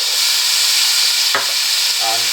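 Garlic tossed into a frying pan of softened, lightly browning onions gives a steady, close sizzle and hiss, with a brief scrape of stirring partway through.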